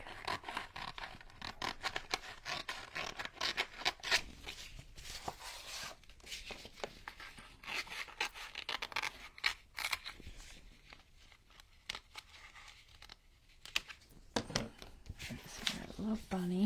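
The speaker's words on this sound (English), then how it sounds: "I'm going to cut them both out and look at them." Scissors snip through paper to cut out small bunny and chick rub-on transfer images, giving a run of close, irregular scratchy cuts and rustles with quiet pauses between bursts.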